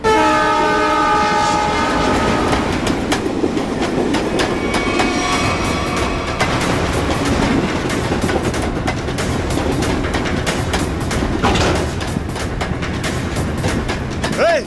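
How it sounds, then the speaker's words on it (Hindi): A train approaching a station sounds a long horn blast, then rolls on with a loud, continuous rumble and rhythmic wheel clatter, with a few sharp metallic squeals near the end. "ट्रेन 16 मिनट में स्टेशन पहुंच जाएगी"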